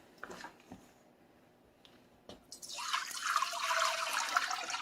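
Water is poured into a hot skillet used for sausage gravy, breaking into a loud, steady hiss and sizzle after a few faint clinks and taps.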